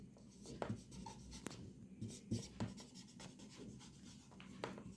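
Chalk or marker scratching out equations on a classroom board, a run of short taps and strokes in uneven rhythm, close but quiet, with no talk.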